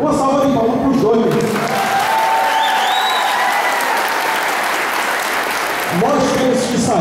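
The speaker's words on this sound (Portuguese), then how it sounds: "Uma salva de palmas para os dois." A live audience at a Portuguese-language event gives two honoured guests a loud round of applause: dense, sustained clapping with some cheering, bracketed by someone speaking over a microphone at the start and again near the end.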